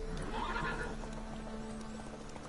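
Horse in The Witcher 3 video game whinnies loudly near the start, then hooves clip-clop steadily under a constant background hum.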